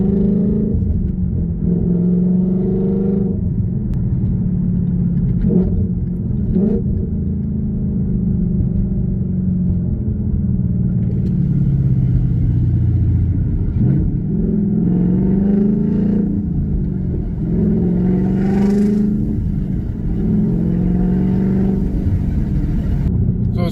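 A second-generation Coyote Ford Mustang GT engine rumbles and revs repeatedly, pitch rising and falling with gear changes and quick rev-matching blips on downshifts, close and loud throughout.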